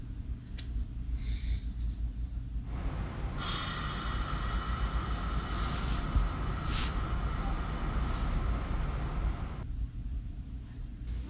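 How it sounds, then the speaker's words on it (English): A train rumbles steadily past with a rising rush of rattling and hissing noise in the middle, then fades back to a low rumble. "the freight cars clickety-clacked"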